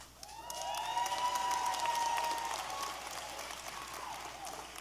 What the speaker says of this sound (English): The applause line is coming.